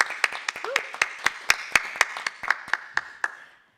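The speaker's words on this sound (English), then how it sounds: "Let's have a round of applause." A small congregation at a Sunday church service applauds, with a few distinct claps landing in a steady rhythm over a thin layer of scattered clapping that dies away near the end.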